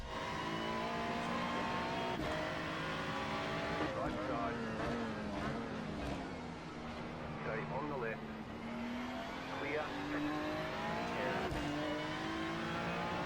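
Race car engines from the iRacing simulator at Daytona, several cars running together in continuous droning whine with shifting pitch sweeps as engines rev and pass, loud and steady throughout.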